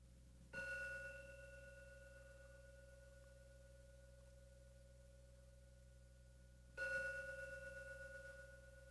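A meditation gong is struck twice, each stroke a clear metallic onset that rings on with a steady, slowly fading sustained tone over a low hum, quiet and alone with no talk.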